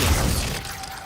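Glacius ice spell shattering in the video game Hogwarts Legacy, a single loud, brief crunching burst at the start that thins into a fading icy hiss.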